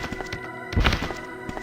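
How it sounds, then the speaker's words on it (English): Sharks flopping about in the video game Resident Evil, giving a few dull thumps and thuds, with one heavier, louder thump in the middle over a low game background. "the thumping sound that you heard there was the sound of the sharks flopping about back and forth"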